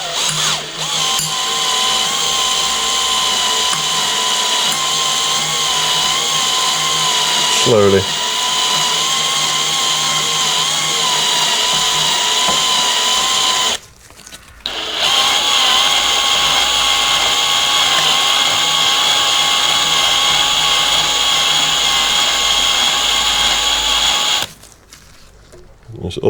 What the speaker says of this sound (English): And then we're just going to drill it out.